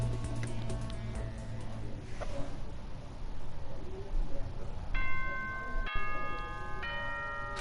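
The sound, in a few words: chime before the nighttime announcement in the Danganronpa video game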